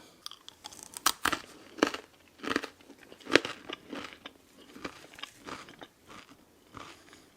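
Close crunchy bites and chewing of hard, dry German late-war Knäckebrot bread ration, with sharp cracks followed by steady crumbly mastication, quiet and alone.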